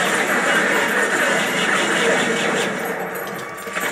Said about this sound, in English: Those are turrets. I'm taking them out.